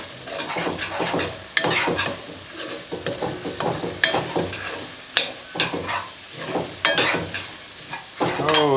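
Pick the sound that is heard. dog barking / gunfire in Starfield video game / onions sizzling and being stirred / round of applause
onions sizzling and being stirred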